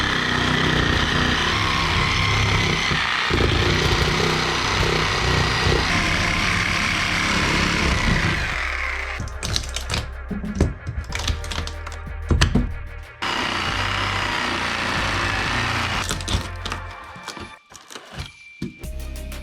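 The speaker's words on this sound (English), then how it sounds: "So now I'm going to start by cutting out this big beam right here, from cutting these nails to cutting right down here." Power tool cutting through a big wooden beam and its nails while repairing a rotted sill plate with termite damage; a loud, steady motorized whine for about nine seconds, then choppy bursts and stops as the blade works through.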